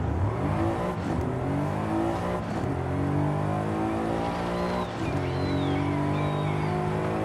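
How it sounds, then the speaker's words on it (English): An all-wheel-drive car with an upgraded exhaust and intake in Forza Horizon 5 revs hard through a shift from first to second, its loud, steady engine drone dipping briefly at each shift, with faint high squeaks from the rear tyres chirping after the change. "I can hear a little chirp coming from the rear wheels when we shift from first to second."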